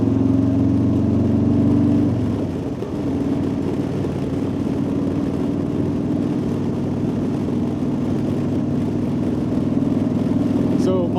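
Motorcycle fitted with a Vance & Hines Big Radius exhaust, a steady throttled engine drone that dips briefly and then holds on under rushing wind, recorded up close while riding.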